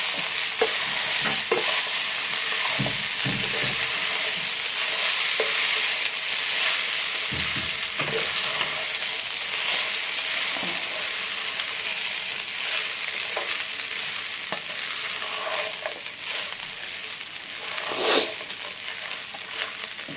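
Leftover idli being stirred with idli powder in a hot pan, a loud continuous sizzle and fry with repeated scraping and stirring strokes throughout, no voices.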